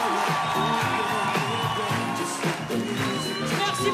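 Crowd at the Bataclan concert hall in Paris whooping and cheering, a dense continuous roar of voices with shouts rising above it, loud and sustained with no clear break.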